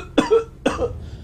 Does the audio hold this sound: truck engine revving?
no